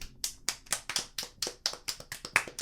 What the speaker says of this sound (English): round of applause for Spencer, huh?